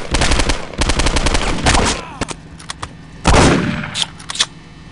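Gunfire from the video game Postal 2: rapid bursts of loud, close shots in quick succession, then scattered single shots after a short lull.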